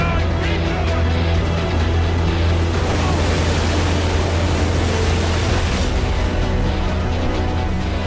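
Heavy six-foot seas off the Normandy coast, a constant dense roar of breaking waves and churning water at sea, loud and unbroken throughout, with a low rumble beneath.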